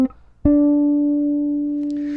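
A bass guitar sounds a single low plucked note from a riff, ringing out long and steady and slowly decaying after a short muffled start, close and clear.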